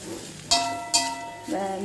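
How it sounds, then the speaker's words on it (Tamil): Small onions, tomato and coconut sautéing in sesame oil for a Thanjavur fish curry, a close sizzle broken by three sharp clanks of a metal ladle against the pan. "சின்ன வெங்காயம் தக்காளி தேங்காய் இதெல்லாம் ஒன்றா நல்லெண்ணெயில் வதக்கி"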